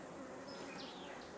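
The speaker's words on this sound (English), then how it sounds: "I bet there's a lot of bees in here." Honey bees swarm inside a hive box set back after a honey harvest, producing a faint, dense, continuous buzzing drone close by with no pauses.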